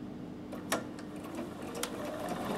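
A Bernina 7 Series sewing machine stitches a buttonhole with a steady, quiet mechanical whir and faint rhythmic needle ticks, near and continuous without talking.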